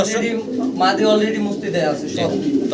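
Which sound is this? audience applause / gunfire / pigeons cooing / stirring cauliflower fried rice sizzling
pigeons cooing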